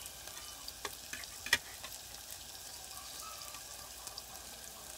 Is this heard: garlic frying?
yes